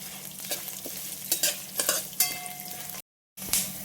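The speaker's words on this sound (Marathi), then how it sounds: "आता आपण मंद आचेवर याला छान 5 मिनिट भाजून घेऊ" Peanuts roasting in a pan over a low flame, with a steady soft sizzle and repeated scraping stirs and light rattles, close by, broken by a brief moment of silence near the end.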